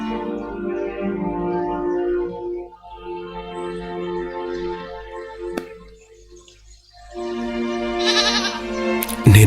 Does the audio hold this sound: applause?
no